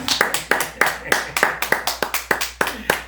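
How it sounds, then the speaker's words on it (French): A church congregation claps rhythmically in praise of the Lord Jesus, roughly a dozen sharp, evenly spaced claps at a steady beat, close and loud over a faint low hum. "Applaudissons le Seigneur Jésus."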